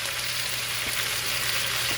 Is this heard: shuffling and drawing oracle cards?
no